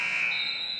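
A basketball game buzzer at a women's college game sounds one loud, steady electronic tone that holds for under a second, with no talk over it.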